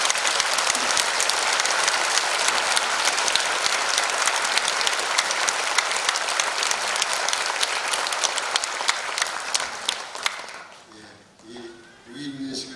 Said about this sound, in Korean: 우리 성도님들 하나님께 영광의 박수를 좀 같이 한번 더